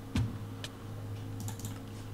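Computer keyboard keys tapped while playing Minecraft, a double press of W: a few quick, close clicks, sharp and distinct against a steady low hum, with no talking.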